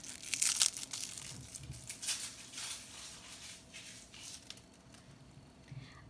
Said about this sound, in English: each of the items are wrapped separately in lovely paper, and I'm going to be a little bit vicious in how I take this off